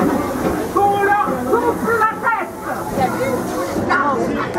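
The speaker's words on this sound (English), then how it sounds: "let's look at the train and the steam instead" Steady hiss of steam from a train, continuous and fairly loud, with voices and crowd chatter mixed in beneath it.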